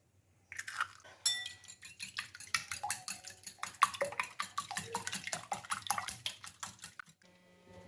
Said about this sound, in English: Now break for eggs and beat